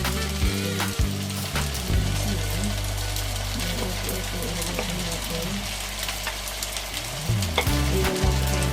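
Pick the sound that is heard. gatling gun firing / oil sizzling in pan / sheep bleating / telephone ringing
oil sizzling in pan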